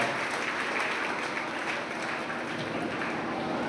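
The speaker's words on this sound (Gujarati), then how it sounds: "જોરદાર તાળીઓના ગડગડાટથી આપણે વધાવી દઈએ સર." An audience at a school career guidance program gives a warm welcome applause, dense continuous clapping from a crowd of students held evenly throughout.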